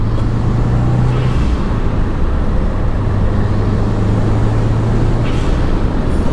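A turbocharged 2015-or-later Subaru WRX fitted with a GFB blow-off valve accelerates hard onto a freeway, its steady loud engine and road roar droning continuously throughout.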